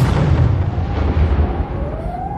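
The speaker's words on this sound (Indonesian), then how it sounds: "Entah dari ledakan tadi Carter sudah tewas atau tidak" A deep, heavy explosion rumble in an action film rolls on and slowly fades, with a faint rising whine near the end.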